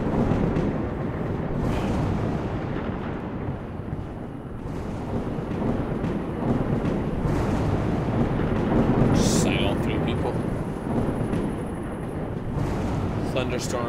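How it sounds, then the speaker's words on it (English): A thunderstorm in the video game Life Is Feudal: Forest Village, a steady loud roar of rain and rumbling thunder that carries on throughout, with a few brief sharp cracks partway through. "Thunderstorms in this game suck, by the way. That's my only complaint about the game. Thunderstorms are too loud."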